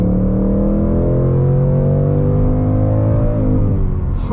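Close, loud V8 of a 2020 Ford Mustang Bullitt, a deep rumbling engine note that rises slightly and then falls away, with no voices.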